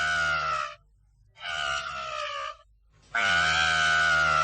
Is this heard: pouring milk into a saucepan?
no